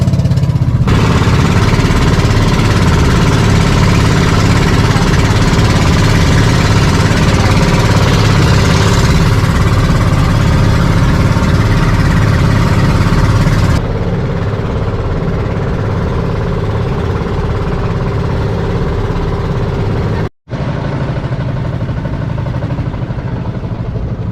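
A boat engine runs at an island harbour just after starting. It drones loud and steady with a low rumbling chug, drops to a quieter level partway through, then cuts out briefly near the end, with no talking.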